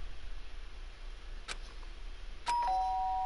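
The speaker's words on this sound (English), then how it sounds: "Someone rang the bell." A doorbell in the game Danganronpa chimes at night, with a sharp click followed by a clear sustained electronic tone, loud and alone against quiet background hiss.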